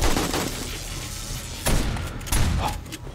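A shotgun fires in the zombie horde game 7 Days to Die, with a couple of sudden booming blasts over a dense, noisy background of combat sounds.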